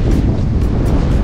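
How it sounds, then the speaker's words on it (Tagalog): Ocean waves at a surfing area in the Philippines roar in a continuous wash, with strong wind buffeting the microphone, loud and close with no talk. "Makikita nyo po dito yung naglalaki ang alon."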